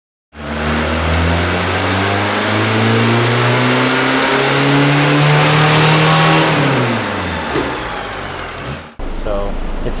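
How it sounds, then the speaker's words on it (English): A diesel pickup truck engine on a dyno revs hard and climbs steadily for several seconds, then drops back and cuts out abruptly, loud and close, with a brief burst of sound afterward. "this is the first diesel we've actually had on the dyno"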